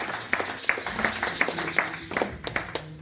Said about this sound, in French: Acclamons encore très fort le roi des rois pour ce soir.